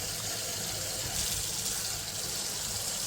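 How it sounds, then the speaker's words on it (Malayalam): Water is poured into a pot lined with banana leaves, making a steady close rush and splash that continues unbroken and fairly loud. "വാഴയില വെച്ച് കഴിഞ്ഞിട്ട് ഇതേനാണ് അതിൽ വെള്ളം ഒഴിക്കും"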